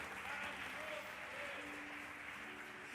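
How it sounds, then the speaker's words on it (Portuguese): A church congregation applauds together, a dense continuous clapping wash with a voice faintly heard underneath. "Léo, jogue a mão para cima e dá um glória a Deus e aplauda ele"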